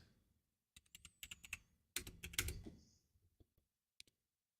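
Quiet keystrokes on a computer keyboard come in short irregular bursts with pauses between them, close and faint, with no talking.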